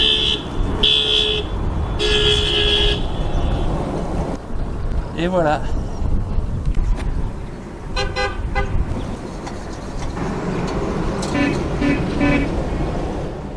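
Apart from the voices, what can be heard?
car horns honking in Armenia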